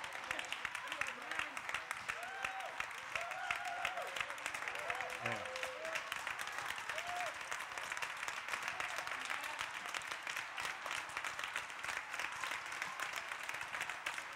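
Congregation applauding during a Sunday morning worship service in church, a steady, fairly faint spread of many hands clapping with some voices mixed in, continuing throughout.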